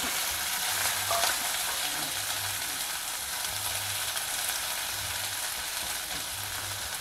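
Chopped onion with mustard seeds and cumin stir-fries in oil in a pan, a constant close hiss of sizzling with periodic soft scraping of a spatula, no voices.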